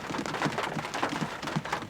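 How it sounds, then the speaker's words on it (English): Rain falls steadily outdoors, a continuous spattering hiss with clustered drops hitting surfaces, moderately loud and close, with no voices. "did you guys hear that rain?"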